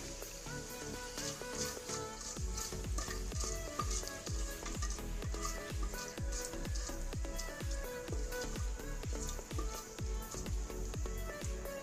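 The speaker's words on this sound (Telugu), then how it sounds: "4 ఇలాచీలు, చిన్న దక్కడ్ పూల్, 2 బిర్యానీ ఆకులు వేసుకుని ఫ్రై చేసుకోవాలి" Cloves, cardamom pods, a small piece of stone flower and two bay leaves frying in hot oil for egg pulao: constant crackling sizzle with a rhythmic stirring or scraping pulse, close and fairly loud, no talking.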